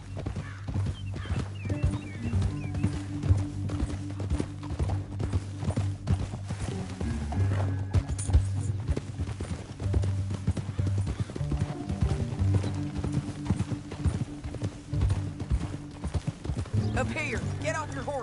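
Horse hooves clip-clop steadily at a trot or gallop in Red Dead Redemption 2, a continuous rhythmic beat under a low game soundtrack drone and occasional voices.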